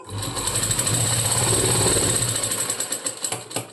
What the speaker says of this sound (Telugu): ఒక స్టిచ్ చేసుకోండి 1/2 ఇంచ్కి. డబల్ స్టిచ్ చేయండి.